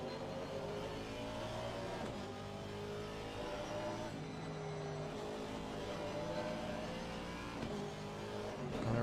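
Race car engine in a racing video game on the Kyalami circuit, holding a steady loud roar with revving shifts as the car brakes and accelerates through the hairpins, with no talk.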